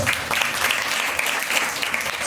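A congregation claps loudly during a Sunday church worship service, a dense, sustained burst of many hands clapping together, close and strong throughout with no break.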